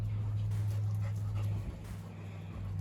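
A 10-pound dog pants steadily close by in a quiet indoor room, soft rhythmic breaths over a low steady hum, with no one talking.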